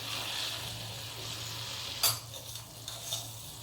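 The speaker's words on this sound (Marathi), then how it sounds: "पाण्याला उकळी आलेली आहे, त्यात आपण मटकी घालू।" Moth beans (matki) tipped into a pot of boiling water for matki usal, making a steady bubbling, hissing rumble with a brief splash and clatter midway and a few softer plops after.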